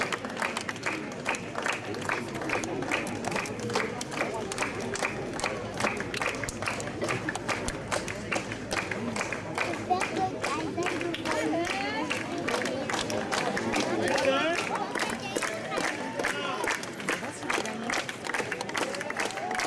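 Crowd applauding at a Basque strength competition in Saint-Palais, with sustained dense clapping and a few voices in the background throughout.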